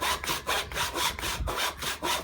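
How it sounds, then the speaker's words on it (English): A hand saw cuts through wood in steady back-and-forth strokes, about eight rasping pulls in quick, even rhythm, close and clear. "Once you get it started, it keeps going pretty well."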